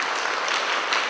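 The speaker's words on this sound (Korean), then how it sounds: "큰 박수 부탁드리겠습니다." Audience applause at a Catholic church symposium on Sunday school catechist training, a steady dense wash of clapping that fills the whole moment without talk.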